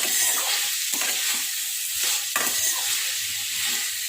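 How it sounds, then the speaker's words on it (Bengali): Chicken pieces frying in a pan for chicken egg rolls give a steady, close sizzle, with a few soft scraping stirs breaking through and no talking. "এভাবে ভাজা ভাজা হবে চিকেনটা"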